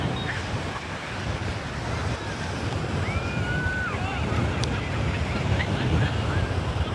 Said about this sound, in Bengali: বর্ষাকাল, ঢেউ কিন্তু মারাত্মক আছে